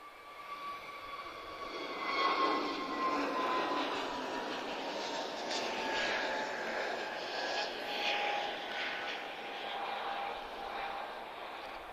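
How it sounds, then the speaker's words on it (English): An Azores Airbus A321neo takes off at Lisbon Airport, its engines giving a sustained, moderately loud roar with a steady whine that swells and holds as it climbs away. "just leaped into the air. A321neo from Azores"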